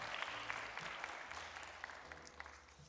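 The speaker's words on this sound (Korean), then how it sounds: "박수 부탁드립니다." Quiet, distant applause from a church congregation during a pastor's Q&A prize draw, a soft even patter of clapping with occasional crisper hand claps, no voices over it.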